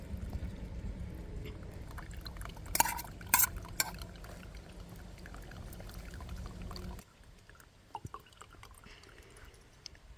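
Filtered rosehip pulp is poured through a coffee filter into a container in a home kitchen, giving a steady close liquid trickle with a few sharp clinks midway before the flow stops and only faint dripping and handling noises remain.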